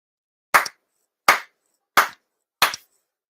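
Four sharp, deliberate hand claps at a monthly Shinto-style Tenchi Kane no Kami ceremony, evenly spaced about three quarters of a second apart, each crisp and close with a short decay, in an otherwise silent room.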